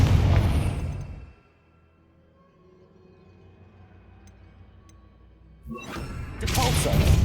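Confringo fire spell blasting in Hogwarts Legacy, a loud fiery burst that drops into near silence with a faint hum and small ticks, then another booming explosion erupts and stays loud at the end.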